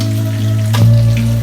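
Chopped tomatoes drop into a hot frying pan already holding string beans and eggplant, setting off a steady close sizzle that swells briefly as they land, with a low hum running underneath.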